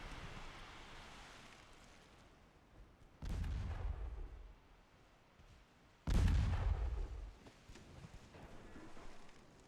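Naval guns fire a broadside in Ultimate Admiral Dreadnoughts: two heavy booming salvos a few seconds apart, each a deep loud blast trailing into a rumbling decay, over a quiet windy sea ambience.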